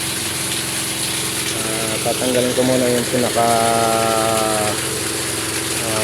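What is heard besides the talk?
pump drawing water from a deep well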